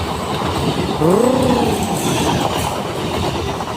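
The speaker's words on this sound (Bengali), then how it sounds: "ট্রেন আছে, ঠিক আছে" A train passes with a steady, loud rumble and rattle of wheels, and a brief squealing tone rises and fades partway through.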